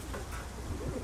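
Pigeons or doves coo faintly in a noisy outdoor setting as a flock arrives, their low calls soft and brief beneath steady background hiss.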